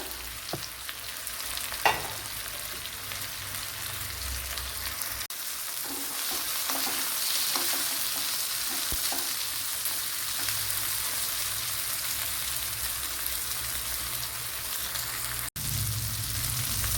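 Cashews, green chilli, ginger and tomato frying in a pan, a steady close sizzle running throughout with a few light clinks and scrapes of stirring.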